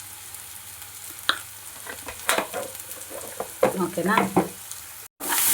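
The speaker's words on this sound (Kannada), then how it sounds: "ಈರುಳ್ಳಿ ಸ್ವಲ್ಪ ಚೆನ್ನಾಗಿ ಫ್ರೈ ಆಗಲಿ" Onions frying in a pan with salt and turmeric for egg bhurji, stirred in bursts of scraping and crackling sizzle, close and moderately loud, with a brief spoken word partway through.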